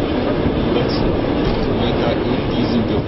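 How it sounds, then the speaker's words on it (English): A private passenger train on the Trans-Siberian route runs along the rails at night, giving a steady, loud rolling rumble with faint rhythmic wheel clatter throughout. "The train is driving into the night."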